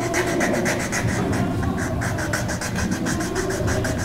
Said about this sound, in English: I'll take a little sandpaper and just kind of get rough sanded here.